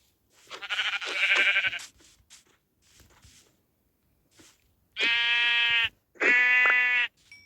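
Two loud, drawn-out sheep bleats in a video game follow some quieter rustling and shuffling sounds, each bleat lasting about a second.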